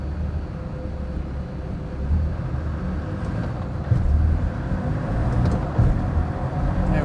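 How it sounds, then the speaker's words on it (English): A Land Rover Defender Td5 diesel engine runs at full throttle in fourth gear on a dynamometer, a steady broadband low roar that grows louder partway through, with no talking. "There we go, so we're full throttle now in fourth."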